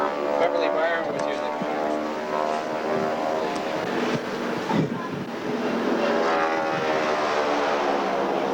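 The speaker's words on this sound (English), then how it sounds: "a squadron of vintage World War II aircraft fly by in a salute to the John W." Vintage World War II propeller aircraft fly by as a squadron over a memorial cruise on the SS John W. Brown, a steady droning engine roar lasting throughout with people talking on deck beneath it.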